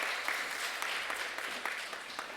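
A church congregation applauding after a worship team's performance, a dense steady patter of many hands clapping that fills the room and gradually fades a little.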